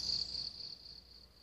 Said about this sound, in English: we hear a cricket chirping 132 times a minute